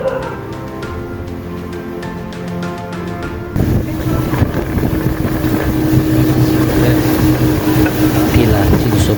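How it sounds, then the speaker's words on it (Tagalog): A speedboat at sea near Balabac as the wind changes, engine roar and water rush swelling loudly midway, heavy wind buffeting on the microphone throughout. "Maaga kaming bumiyahe sakay ng speedboat."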